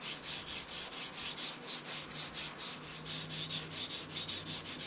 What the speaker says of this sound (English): Slightly higher grit on this one, and I've just gone down at an angle, and that has given me quite a nice taper.